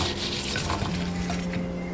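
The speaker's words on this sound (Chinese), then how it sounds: "关火，倒入南瓜，翻拌均匀" Pumpkin pieces being stirred into fried, bubbling salted egg yolk in a pan with the heat off: a steady soft scraping and rubbing of a spatula against the pan, close up, with no talking.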